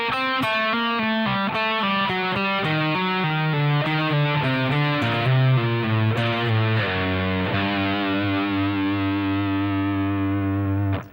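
Classic rock lead on electric guitar, drawn from the G harmonic minor scale, with an octave-below effect thickening each note. A distorted run of quick notes settles into long sustained tones and rings out at the end.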